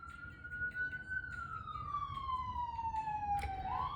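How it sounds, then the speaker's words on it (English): A distant ambulance siren wails in a slow, steady rising-and-falling tone, faint and held throughout over soft background rumble. "Confirmation with those ambulance sirens."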